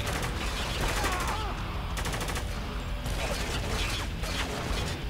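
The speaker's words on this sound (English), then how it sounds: "why are they shooting me through a wall?" Gunfire in the video game Spec Ops: The Line, with rapid rattling automatic bursts and mechanical clatter sounding continuously and loudly throughout.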